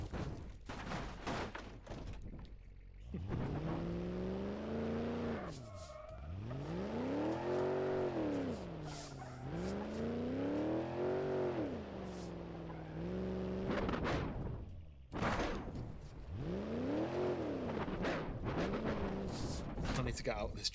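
A truck engine in BeamNG roars at full throttle in repeated rising and falling revving sweeps, each climbing in pitch then dropping off, with someone talking over parts of it.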